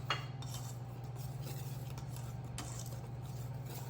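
A utensil scrapes and taps against a bowl while seasoning is stirred into flour, soft repeated clinks over a steady low hum.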